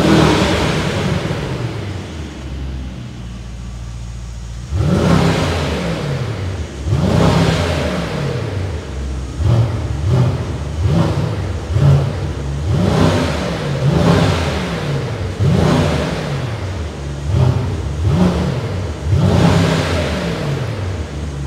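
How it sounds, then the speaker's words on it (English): A 2024 Brabus GT930 idles softly, then its engine starts with a sudden loud burst and is revved repeatedly in sharp rising and falling pulses, close by and without voices. "we will be starting up this beast with an emotion start"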